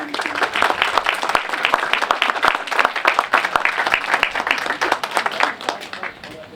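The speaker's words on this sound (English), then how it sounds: "So please join me in giving a warm round of applause for everyone's commitment and for being here to celebrate with us tonight." Guests at the Gilbert M. Simmons Library's 125th anniversary celebration give a warm round of applause, many sharp individual claps blending into a lively, continuous ovation lasting several seconds.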